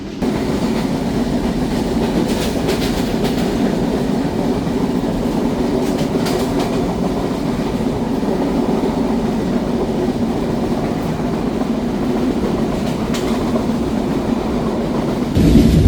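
The Banalata Express between Dhaka and Rajshahi runs along the track, heard from on board as a steady low rumble with rhythmic wheel clatter and occasional higher rattles, continuous throughout.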